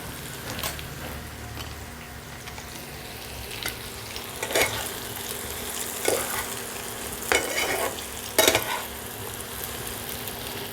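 Chopped green chilli and onion fry in a pan for aloo dum, a steady sizzle broken by several sharp spatula scrapes and clatters against the metal, with no one speaking.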